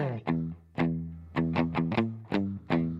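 Electric guitar with slight crunch doubling a bass line, plucked notes in a steady repeating riff, loud and close with no voices.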